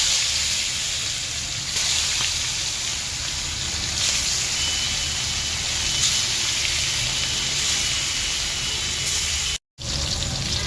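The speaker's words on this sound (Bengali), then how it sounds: "এখন এই মাছগুলো আমি ভেজে নিব" Snakehead fish frying in smoking-hot oil in a wok, giving a steady, dense sizzle and crackle that holds for several seconds, with no talk.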